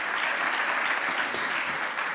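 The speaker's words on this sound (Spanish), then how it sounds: "Un aplauso para Él." Steady applause from a church congregation at a Spanish-language sermon, dense and continuous throughout, filling the room without a break.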